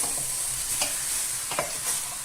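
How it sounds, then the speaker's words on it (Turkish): Meat sears in a hot pot with no added fat for kavurma, a steady sizzle and a few scraping stirs, close and fairly loud, no talking. "Tenceremize direkt etimizi bırakıyoruz"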